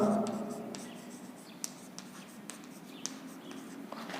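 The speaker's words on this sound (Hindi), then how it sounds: "तो इसलिए मैंने यहां पे लिख रहा हूं" A pen scratches on paper as a maths proof is handwritten, with quick strokes and small taps close by and quiet, in a soft, irregular rhythm.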